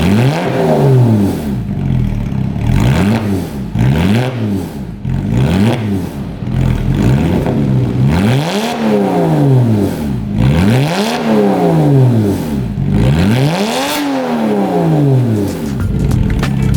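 Porsche Cayman S fitted with a straight pipe exhaust, revved repeatedly up to about 6,000 RPM: loud, close rising and falling engine sweeps, roughly seven rev cycles over a raw rumbling idle, with no talking.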